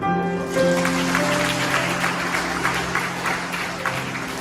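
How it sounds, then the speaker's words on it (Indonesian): Applause from a church congregation at a Sunday service, moderate clapping spreading through the room over a sustained organ or keyboard chord. "kita berikan tepuk tangan."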